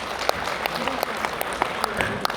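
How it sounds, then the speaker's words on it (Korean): Scattered applause from an audience at the annual general assembly and board meeting of PEN International Korea, a thin patter of clapping with a few sharper claps standing out over quiet room murmur. "예, 박수 좀 부탁드립니다."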